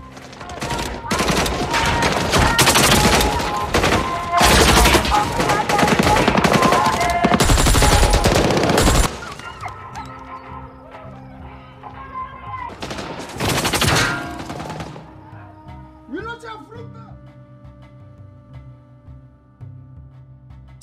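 Gunfire rattles through a film shootout between Somali soldiers guarding the South Korean compound and rebels: dense, loud machine-gun bursts for several seconds, then scattered shots and a final volley amid quieter background noise.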